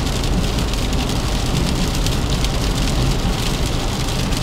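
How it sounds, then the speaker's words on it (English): Heavy rain pounds on a moving car, a loud dense drumming hiss on the roof and windshield that holds steady and unbroken throughout, with no voices. "Look at all this rain."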